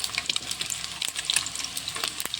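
Turmeric is stirred into food frying in a pan, with a steady close sizzle and crackle and the soft scrape and clink of the spoon moving through the oil.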